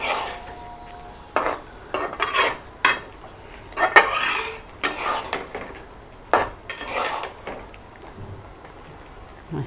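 A spoon stirs whole amra (hog plum) morabba in a cooking pot, giving irregular metallic clinks and scrapes against the pot, close by, with a soft bubbling hiss beneath.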